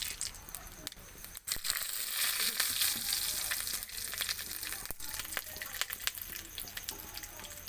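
Whole cardamom, cinnamon, cloves and black pepper sizzle and crackle in hot oil, a close, steady frying hiss with scattered pops and light stirring clicks.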